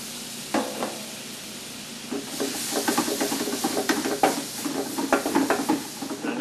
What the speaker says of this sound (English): you'll see how quickly the whole butter will start to brown